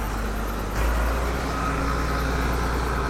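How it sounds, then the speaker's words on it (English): A fully refurbished 7840 tractor with a six-cylinder Power Star engine and 12x12 gearbox runs at a steady idle, giving a loud, close, continuous low rumble that swells slightly after the first second. "How's our fully refurbished tractor 7840?"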